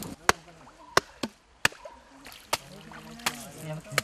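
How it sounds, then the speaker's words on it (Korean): An axe used as a hammer pounds cut tree roots outdoors in Sri Lanka, giving sharp, separate thuds at an uneven pace, about eight blows, with faint water sounds between them. "잘라낸 나무의 뿌리를 다집니다."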